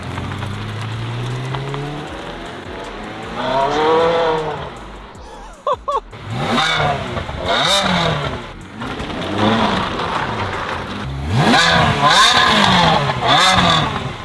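A Ferrari 360 Spider engine, repaired after damage, revs repeatedly. Loud, close sweeps climb and fall, with a brief cut near the middle and sharper bursts toward the end.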